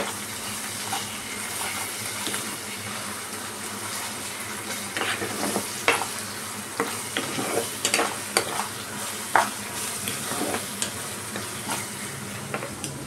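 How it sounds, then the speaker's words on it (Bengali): Spice paste being stirred and fried for a Bangladeshi-style basa fish dish, a steady sizzle with irregular scraping stir strokes and occasional louder clatters, close and alone with no talking. "মশলাটাকে ভালো করে কষতে হবে, না কষলে কিন্তু ভালো লাগবে না।"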